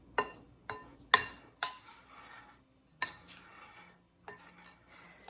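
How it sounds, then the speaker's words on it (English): Farmers cheese is mixed by hand with fresh chopped rosemary in a bowl, the utensil making a series of sharp scraping and tapping strokes against the bowl's sides, with short pauses between them and no talk. "of fresh chopped rosemary. And I'm just going to mix it all together well"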